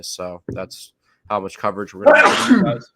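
A person sneezes loudly and sharply near the end, right after someone speaks on a sports podcast.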